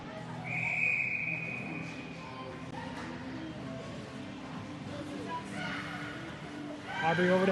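A referee's whistle at a youth ringette game sounds one sharp, short blast early on, followed by busy rink noise, skating and a commentator's voice over the arena.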